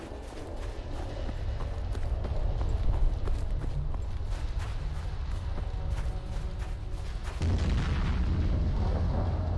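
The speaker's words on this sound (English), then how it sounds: "Big explosion over there." A big explosion in the post-apocalyptic survival game Fallout Frost rumbles as a sustained deep roar, with a fresh low surge near the end and no talk.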